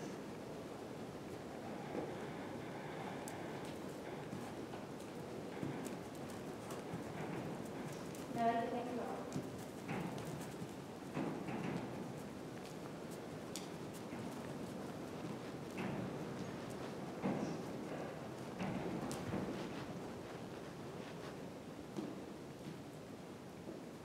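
An Icelandic horse being ridden on a farm, its hooves clip-clopping in an irregular rhythm at moderate distance, with people talking over wind noise.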